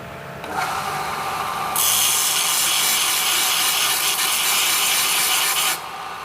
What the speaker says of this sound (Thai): เสร็จแล้วเดี๋ยวผมก็จะไปขัด ให้พอดีนะครับ